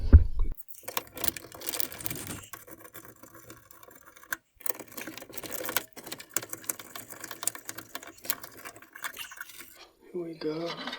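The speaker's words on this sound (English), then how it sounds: "Now we will remove the fuse box here, just two bolts, one at the top, one at the bottom, 10mm" Ratchet and socket clicking and metallic tinkering while 10mm bolts come off the fuse box of a Toyota Land Cruiser, a close, irregular series of clicks and taps with brief pauses, and a voice speaks near the end.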